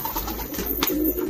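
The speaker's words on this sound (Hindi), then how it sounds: "नेक्स्ट हम देख लेते हैं कबूतर" High flyer pigeons coo softly nearby, a few low throaty burbles over a faint background hiss.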